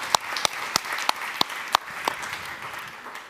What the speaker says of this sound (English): I would invite you to maybe have a round of applause